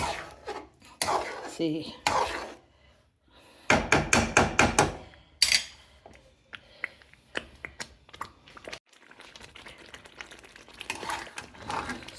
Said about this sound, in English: mix this. Otherwise it will stick to the bottom of the pot.